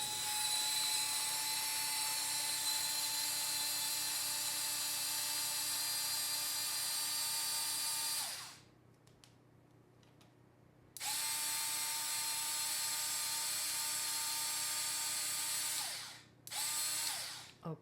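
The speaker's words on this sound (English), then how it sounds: "So these are the ingredients we want to blend. Now, this will be noisy." A blender runs at high speed through tuna salad ingredients with a loud, steady whine. It cuts off briefly, starts again, then stops twice near the end, and no one talks over it.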